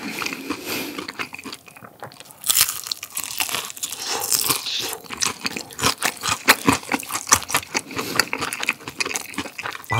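Crunchy Honey Combo fried chicken is bitten and chewed up close in a mukbang, a dense run of loud crackling crunches that grows busier and more rhythmic as eating continues, with no talking.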